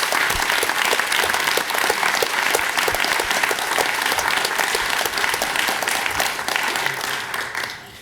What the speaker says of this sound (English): And let's give a big round of applause to Mayor Wang